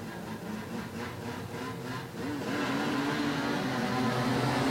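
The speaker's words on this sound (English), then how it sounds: "Let's feel the revs." Saloon race car engines rev together on a sunny circuit at the start of a Super Saloons race, a blended mechanical roar that climbs in pitch and swells louder midway through.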